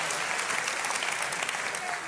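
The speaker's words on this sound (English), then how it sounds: "Give him a round of applause" A crowd claps steadily and enthusiastically throughout, a dense, even wash of applause with no pauses.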